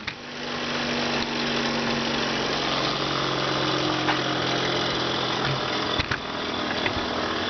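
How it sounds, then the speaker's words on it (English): A 1 by 30 inch belt sander with 80 grit grinds a steel axe head, giving a steady, close mechanical whir and rasp with a few sharp knocks, no voices. "for this, I prefer my 1" by 30" belt sander."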